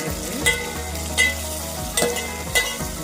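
Onions and a tomato frying in a pan for a small-fish curry with tamarind-leaf powder, a steady close sizzle with a low hum and several short stirring scrapes spaced about a second apart.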